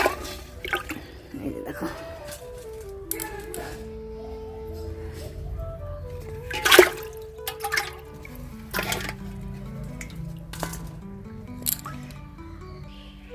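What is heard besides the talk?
live snakehead fish taken out of water by hand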